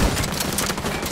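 Sustained burst of rapid gunfire in The Division 2, a dense continuous fusillade lasting the whole moment with no clear gaps, loud and close.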